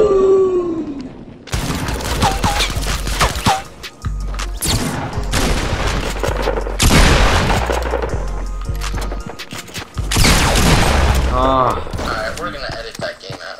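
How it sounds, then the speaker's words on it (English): Video game gunfire bursts loud and close in several sustained volleys with booms and mechanical clatter, broken by short gaps. "let me shoot him"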